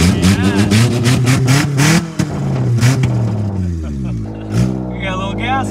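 A junk car's engine fires up and revs repeatedly, loud and close, with rising and falling surges that settle into a rough idle, while people talk over it.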